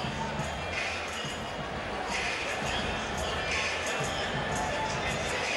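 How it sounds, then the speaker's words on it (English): A huge arena crowd at Freedom Hall in Louisville, Kentucky, awaits a Mike Tyson boxing main event, making a dense, continuous roar of murmuring that stays level throughout with no distinct peaks. "So here at Freedom Hall in Louisville, Kentucky, huge crowd on hand to see our main event"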